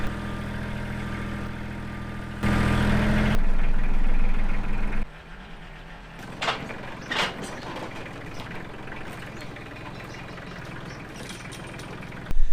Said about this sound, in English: it feels pretty tippy on the tractor, so I'm just going to keep it in a low gear and go pretty slow